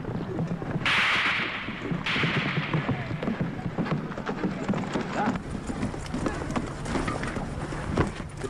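Hooves clatter in a fast rhythm amid noisy commotion, with bursts of hissing noise and voices shouting in the background.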